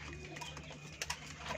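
A chapda-breed pigeon coos softly nearby, with a few low coo notes and light fluttering or shuffling sounds, and no speech.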